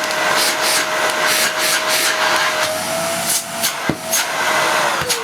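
A Hoover Xarion Green Ray vacuum cleaner running on maximum suction: a loud, continuous airy roar with a steady whine, broken by a few soft knocks and rubbing sounds.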